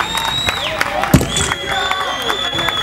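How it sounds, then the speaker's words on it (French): An audience at a Lualaba press awards ceremony claps and cheers over a loud, echoing hall, with the noise rising and falling steadily throughout. Scattered whoops and a few crowd voices sit in the mix. "Applaudissons encore très fort"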